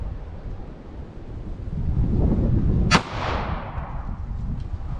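A single sharp, loud shot from a short-barrel 9mm Taurus G2C pistol cracks outdoors, its echo fading over steady wind rumble across the microphone.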